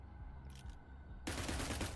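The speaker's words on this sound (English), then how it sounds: "You're investigating the sounds of gunfire." Gunfire in the tactical video game Cyber Knights: Flashpoint, a sudden loud burst of rapid, dense shots that cuts in after a quieter stretch and keeps rattling to the end, with a brief faint noise earlier.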